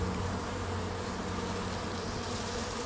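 Dense, steady buzzing of many bees around a hive, robber bees among them, a close and continuous drone with no voices.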